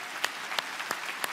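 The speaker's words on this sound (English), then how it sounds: "I want you to stand up right now and stay standing so we can applaud you" Church congregation applauding its ministry volunteers during a sermon, a continuous wash of clapping from many hands at a moderate distance, with a few sharper claps standing out at regular intervals.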